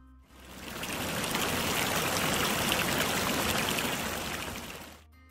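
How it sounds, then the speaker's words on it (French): A swollen torrent rushes downhill into a river, a broad, continuous roar of water that swells in and fades out, with no voices. "Le torrent grossit, dévale la colline et se jette dans la rivière en crépitant."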